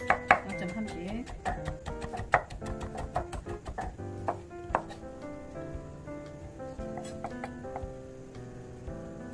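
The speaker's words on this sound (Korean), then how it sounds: "오이 속쪽도 썰어줍니다" A knife slices cucumber on a cutting board in quick, irregular taps that thin out after a few seconds, with a voice and a soft tonal background underneath.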